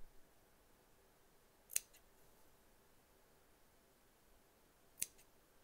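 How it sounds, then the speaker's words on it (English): Two crisp snips of scissors cutting turkey work embroidery loops, close and isolated, a few seconds apart in an otherwise quiet room. "now what we're going to do is I'm going to cut into all of those loops."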